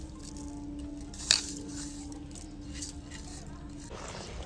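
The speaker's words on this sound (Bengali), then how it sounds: "চিনি আর জলটাকে খুব ভালোভাবে মিশিয়ে নিয়েছি।" Sugar and water are stirred together in a bowl with soft, wet swishing, one brief clink of the utensil against the bowl, and faint scraping, all quiet and close.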